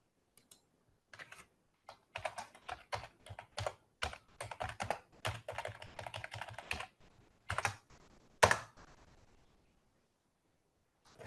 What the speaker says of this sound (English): Somebody type something.